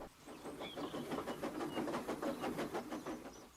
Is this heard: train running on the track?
yes